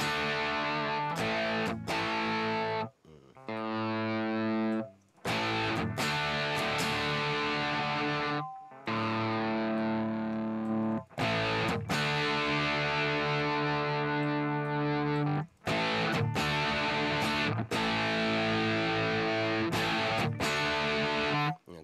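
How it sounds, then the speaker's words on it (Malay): A distorted electric guitar played through a Mesa Rectifier amp rings out loud and close, strumming sustained chords in bursts separated by brief gaps. "kita nak buat bunyi apa lah. Bunyi distortion lah."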